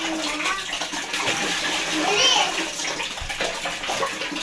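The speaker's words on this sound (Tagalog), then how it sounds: "Nag-iipon po kami ng tubig." Water gushes steadily from a tap into a container as it is filled and collected, running loud and continuous while children talk over it.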